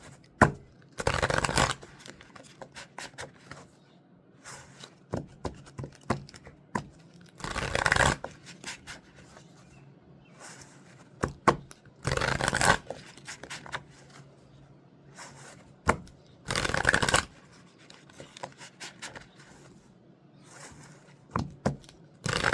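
Several short bursts of cards being shuffled, riffling in quick rasps separated by quiet pauses.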